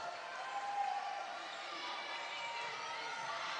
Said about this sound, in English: You can see it's getting loud in here now